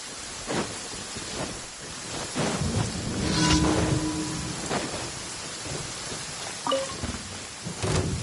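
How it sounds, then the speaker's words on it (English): Steady rainfall in Genshin Impact, with rolling thunder rumbling in the middle and a few small game effect tones, no voices over the storm. "The rain won't slow me down."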